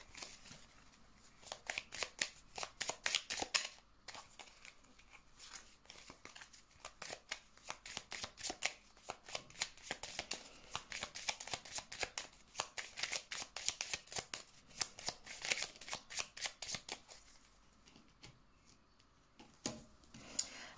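Tarot cards shuffled for a reading, a long run of quick soft riffling and slapping clicks in uneven bursts, close but quiet, with no talking.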